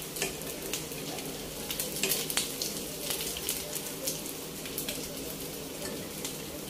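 Chicken egg cutlets frying in a pan of oil, a continuous soft sizzle with scattered sharp pops and crackles, fairly quiet and close, with occasional stirring and no talking.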